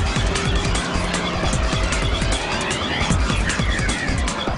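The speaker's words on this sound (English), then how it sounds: "this is a BMW just took off at a very high rate of speed" A BMW M3 launches at very high speed during a night street race, a loud, dense engine roar with rushing noise and tire sounds, steady throughout.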